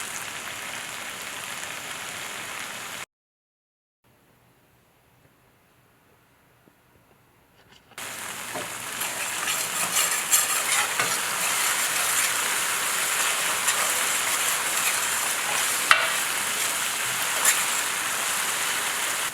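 Curried eggplant and potato cook down in a pot with a steady, bubbling hiss like rain, a cut to near silence for several seconds, then the hissing simmer returns louder with occasional small pops and no talk.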